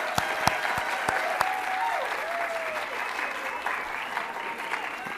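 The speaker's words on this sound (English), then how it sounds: "let's give a big round of applause for the judges" Audience applause for the judges at an inter-college environmental public speaking competition, sustained clapping from a crowd with a few sharp individual claps standing out and a faint voice murmuring underneath.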